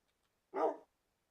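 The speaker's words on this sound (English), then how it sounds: "The dogs need to shut up." A single short dog bark sounds once, moderately distant and isolated against near silence.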